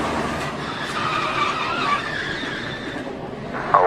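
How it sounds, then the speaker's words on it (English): A NASCAR stock car is wrecked hard in contact with another car, heard from onboard as a continuous engine roar with tire skidding and a sharp thump near the end. "We got wrecked hard right here. That was the contact Eric Jones felt."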